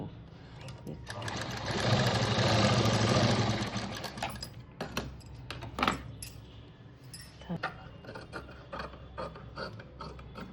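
A sewing machine stitches a half-sleeve blouse sleeve with pleats, running in a steady mechanical whir for a couple of seconds, then giving sparse clicks and ticks. A person talks softly nearby.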